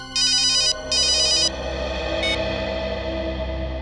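A telephone rings in two loud electronic bursts, each about half a second, followed by a brief third chirp, set over low background music.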